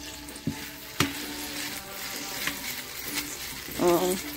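Big sausages fry in a small amount of oil with a steady soft sizzle close by, broken by occasional scraping clicks as they are stirred.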